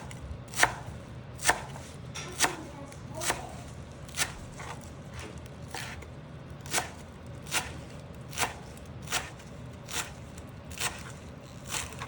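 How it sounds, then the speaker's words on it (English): A knife coarse chops leafy herbs for chicken pho on a board, with about a dozen crisp, evenly spaced thuds in a steady rhythm, close and alone. "I want to definitely do a nice coarse chop"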